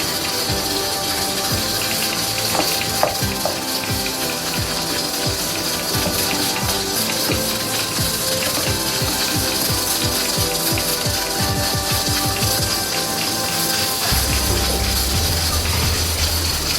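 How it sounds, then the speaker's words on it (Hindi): Tomatoes frying in a pan for haleem, a loud continuous crackling sizzle that holds steady throughout, with a shift to a lower bubbling tone near the end. "दो से 3 मिनट अच्छी तरह भूनेंगे ताकि जो टमाटर है वो अच्छे से सॉफ्ट हो जाए"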